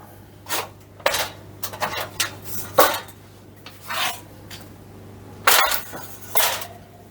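A metal baking tray is picked up and handled in a home kitchen, giving a series of sharp clanks, scrapes and rattles at close range, spaced irregularly over a low steady hum.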